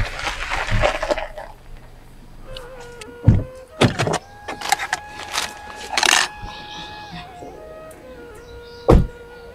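A car arrives nearby: a power window whirs, and several loud, sharp door thumps and clunks stand out over a low engine hum. No one speaks.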